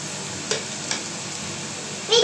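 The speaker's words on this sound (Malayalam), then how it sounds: "ഇതിൻ്റെ പച്ചമണം മാറുന്ന വരെ കുറച്ച് നേരത്തേക്കൊന്ന് വഴറ്റി കൊടുക്കുക." Masala with coriander powder sautéing in a pan for chicken curry, a low steady sizzle with a couple of quick stirring scrapes and a louder scrape near the end, close but fairly quiet.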